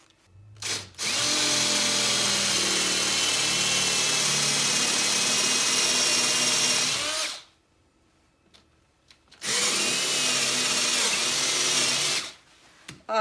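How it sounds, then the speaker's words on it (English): A power drill bores into a felled oak crotch log, two long, loud, steady whirring runs separated by a brief pause with faint clicks, close by and without talk. "So I'm going to drill this at a little bit of an angle going that way"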